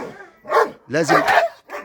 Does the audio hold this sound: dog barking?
yes